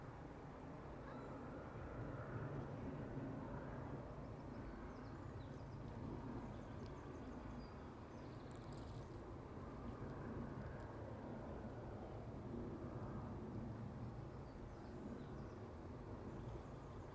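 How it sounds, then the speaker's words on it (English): A Ryanair airliner approaching East Midlands airport produces a steady, distant broadband roar. The rumble holds constant throughout with no clear peak, heard from outdoors at a plane-spotting spot. "Aircraft making its way up towards us."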